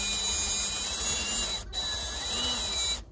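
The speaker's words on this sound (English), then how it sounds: "I've got my drill and we are just going to drill holes into the tree" Power drill boring holes into an artificial DIY olive tree trunk, a steady high whine running nearly three seconds with a brief cut midway and a stop at the end.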